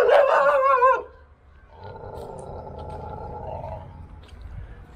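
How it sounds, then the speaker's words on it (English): Stray dogs bark in an abandoned, overgrown amusement park, a loud burst of close, overlapping barks and yips for about a second, then a quieter, steady background noise. "As you can see, you got rabid dogs."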